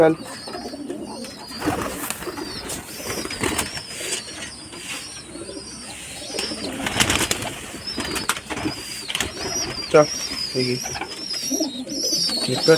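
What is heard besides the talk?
pigeons cooing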